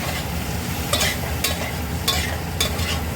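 Potatoes with spices for matar dal sizzle in a pan under a constant loud fry, while a spatula scrapes through them in several distinct strokes close by.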